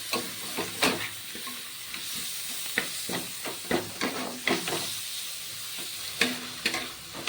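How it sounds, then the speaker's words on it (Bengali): A spice paste with chopped tomato fries in a pan. It gives a steady sizzle broken by frequent sharp clacks and scrapes from stirring, all close by, with no talk. "এবার কিছুক্ষণ মশলাটাকে ভেজে নেব"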